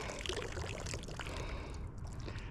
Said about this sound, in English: so we'll just take that water out.